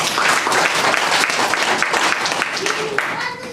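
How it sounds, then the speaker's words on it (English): An audience at a party chapter launch ceremony in Bristol claps continuously and loudly, a thick crackle of many hands, while a voice speaks faintly underneath. "Please, let's clap when it comes."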